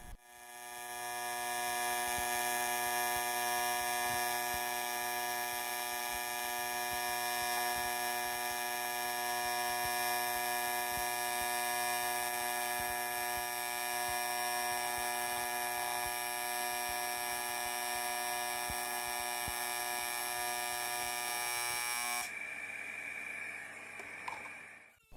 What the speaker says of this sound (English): I'll just run another bead to cover the entire area